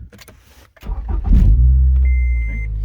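A 2016 Scion tC is started with its push-start button: a chime sounds, the starter briefly churns, and the engine catches into a loud, steady idle close by, with no talking.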